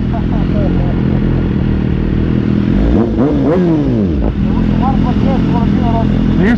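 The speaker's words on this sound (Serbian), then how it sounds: "Ugasi motor kad pričaš sa mnom." A motorcycle engine runs loud and close throughout, a steady rumble with a rising and falling rev in the middle, while someone talks over it.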